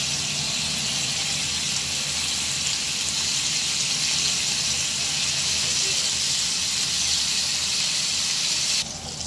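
Chicken malai tikka sizzling in a pan on a medium gas flame, a steady, even hiss that continues unbroken for several seconds and drops away abruptly at the end.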